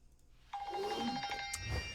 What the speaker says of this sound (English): Oh, my phone. Always with my phone. Let me shut this nonsense off.